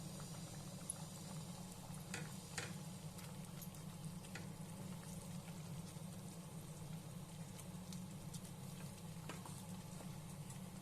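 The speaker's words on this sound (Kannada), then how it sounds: "ಇವಾಗ ಕುದಿ ಬಂದಾಗಿದೆ" Avarekalu pulao mixture bubbling in a covered pot, a faint continuous simmering and popping with soft irregular ticks, low and steady with no voices.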